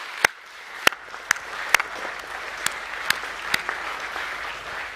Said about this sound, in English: Can we give those members of staff a round of applause, please?